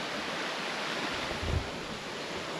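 Water flows beside a campsite on the Appalachian Trail, a steady broadband rush with no breaks, close and continuous, with a brief low thump partway through and no voices.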